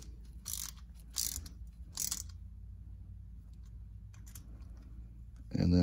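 A ratchet snugging down the bolts of a one-piece cylinder in a crisscross pattern, with a few quick bursts of clicking near the start, quieter clicks later and a louder mechanical clatter at the end.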